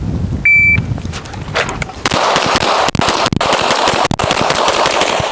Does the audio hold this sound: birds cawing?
no